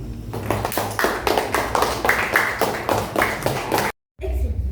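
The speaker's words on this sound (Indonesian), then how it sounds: "Tepuk tangan." A group claps hands together in a steady, even rhythm during a school religious-education lesson, loud and close, with a brief gap near the end before the clapping resumes.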